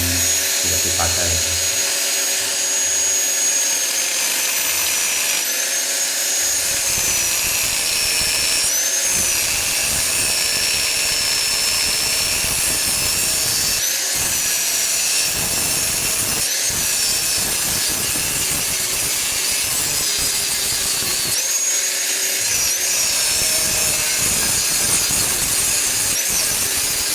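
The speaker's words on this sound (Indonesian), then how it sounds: "setelah itu kita lubangi ya, kita potong bagian yang tidak dipakai" Drilling and cutting a steel exhaust pipe for a Ford Fiesta valvetronic dual-valve exhaust, a harsh high-pitched grinding whine running almost continuously with brief dips, close and loud, with occasional talk underneath.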